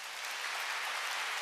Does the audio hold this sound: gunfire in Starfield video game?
no